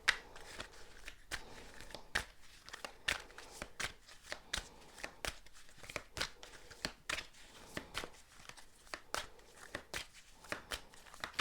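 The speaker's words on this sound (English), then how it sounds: "going to shuffle a little bit more" A deck of tarot cards being shuffled close up, with repeated crisp riffling and snapping bursts in an irregular rhythm for several seconds and no voice.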